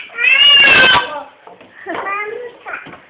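A cat meows loudly and long near the start, followed by a couple of shorter meows mixed with a voice.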